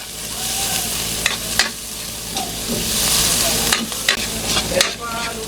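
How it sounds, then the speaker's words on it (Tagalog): Onions sautéing in oil in a pan for Filipino pancit guisado, a steady close sizzle broken by scraping stirs of a spatula against the pan, with no voices. "Yan, gisa-gisa lang natin yan hanggang lumambot na sila."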